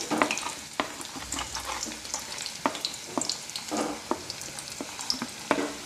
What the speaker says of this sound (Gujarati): હવે આપણે બટેટાને ઘી સાથે સારી રીતે શેકી લેવાનું છે તો થોડી વાર માટે આ રીતે હલાવતા શેકી લઈએ